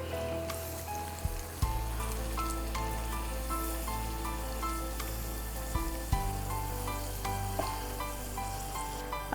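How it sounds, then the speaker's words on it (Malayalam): Cashews and raisins fry in hot oil with a steady, close crackling sizzle throughout, broken by a few faint clinks of a utensil against the pan. "അണ്ടിപ്പരിപ്പും വറുത്ത് കോരുന്നു."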